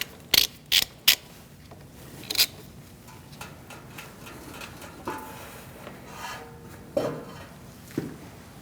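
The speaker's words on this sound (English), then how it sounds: "caliper using an 11mm socket. Undo this bolt." A ratchet fitted with an 11mm socket undoes a brake caliper bolt on a 2016-2019 Chevrolet Cruze. It gives several sharp, close pawl clicks in quick bursts, then a softer, slower run of clicks.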